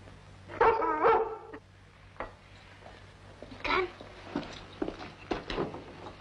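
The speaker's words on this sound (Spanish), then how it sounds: "te he dicho que no le des de comer al perro" A dog being fed barks in a few short, sharp bursts, moderately close, with quieter sounds between.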